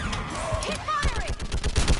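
Brief, dense gunfire in a Mass Effect 3 battle: rapid overlapping shots with whining energy-weapon sweeps, loud and chaotic, with a voice mixed in.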